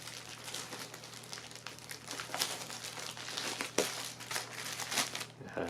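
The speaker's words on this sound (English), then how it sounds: "Then you reach for this Ziploc bag here." A Ziploc bag packed with first-aid supplies crinkles and rustles in irregular handling bursts, close and fairly quiet, with no talking.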